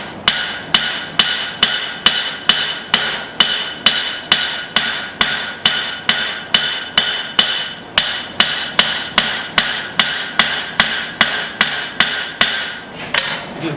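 Steady hammer blows on hot steel while fanning out the blade of a small forged axe, a quick even rhythm of sharp ringing strikes, close and loud, about two per second throughout.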